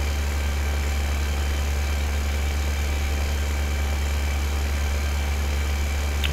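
Tractor engine idling in Farming Simulator 2015, a steady low rumble with a constant hum, running on its own with no talk.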